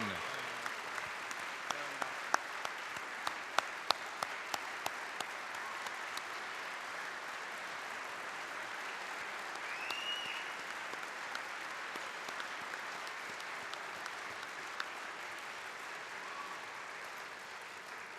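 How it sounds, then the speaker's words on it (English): An audience at a sports hall of fame induction dinner gives sustained, moderately distant applause, a continuous even hiss of many hands with a few sharper claps early on, lasting throughout. "How about one more big round of applause for all of our honorees"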